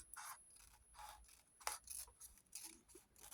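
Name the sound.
scissors cutting folded paper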